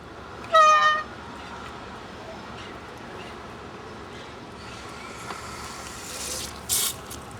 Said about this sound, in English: you want to open the hydrant.